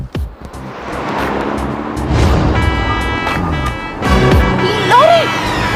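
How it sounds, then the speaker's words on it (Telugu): A lorry passes close by on a road with a rising, loud roaring engine and road noise that swells toward the end, mixed with people's voices. "లారీ!"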